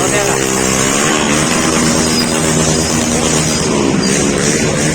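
Motorcycle exhausts roaring at a gathering of parked bikes at a rider rally, a loud continuous engine drone with steady rumbling tones close by that fills the whole stretch.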